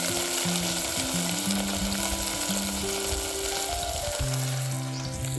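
Jhinge fish fry in a pan with an intense, continuous sizzle and crackle, loud and close, with background tonal sounds and no talking.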